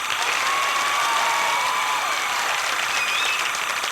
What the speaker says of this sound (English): Audience, you tell me with your applause